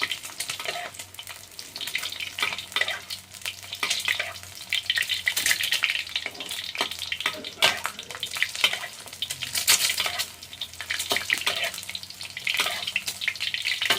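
A fried egg cooks in hot oil while more oil is spooned over it, giving a steady close sizzle with sharp crackling spatters and pops throughout and no voices over it.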